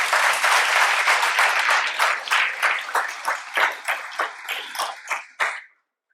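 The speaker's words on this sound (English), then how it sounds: "Give yourself a big round of applause." A business school lecture audience breaks into loud, close applause, dense at first and then loosening into scattered, separate claps before stopping abruptly.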